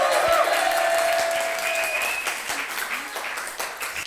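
A concert crowd at a 2024 youth festival claps and cheers loudly and steadily throughout, with dense applause and a few raised shouts, faintly tapering toward the end.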